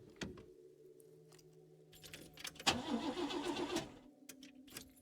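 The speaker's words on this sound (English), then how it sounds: "What happens if I start the car" Car in the video game Lorelei and the Laser Eyes failing to start: clicks and a jingle of keys, a low hum, then a loud cranking whir for about a second that dies away without catching.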